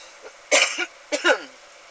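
Two short, raspy coughs close up, a second apart, with a faint breathy sound before the first.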